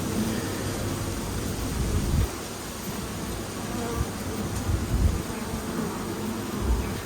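Bees swarm over hive frames holding honey, a steady broadband insect buzz running throughout with a slight drop after the first couple of seconds, with faint voices underneath.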